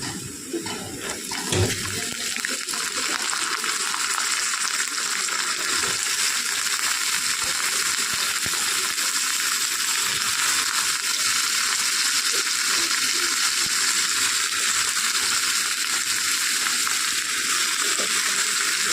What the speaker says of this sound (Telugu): ఈ పొటాటోస్ వేసుకొని మనం బాగా ఫ్రై చేసుకోవాలి.